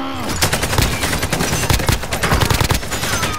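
AK rifle in the Payload video game firing rapid, loud, close-up bursts of gunfire that continue almost without pause.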